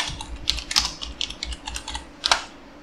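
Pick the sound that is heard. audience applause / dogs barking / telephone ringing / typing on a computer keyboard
typing on a computer keyboard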